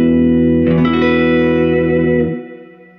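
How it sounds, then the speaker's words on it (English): A 1964 Fender Vibroverb guitar amp with its spring reverb tank set around four, a sustained guitar chord ringing and then cut off, leaving a short reverb tail that fades out. "I want to demo the reverb tank a little bit more"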